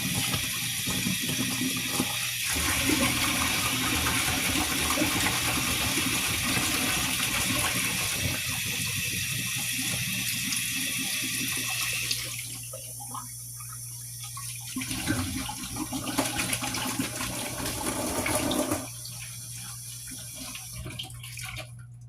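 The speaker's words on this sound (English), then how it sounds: "Wash them out of the bottle." A tap runs loudly as water rinses oak wood chips out of a glass bottle during homemade whiskey making, a close continuous gushing hiss with gurgling and splashing that changes tone midway and briefly drops, with no talking.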